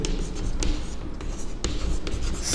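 Pen or marker writing by hand on paper or a board during a maths lesson, a steady scratchy scribbling with short strokes and brief pauses, close and fairly loud, with no talk over it.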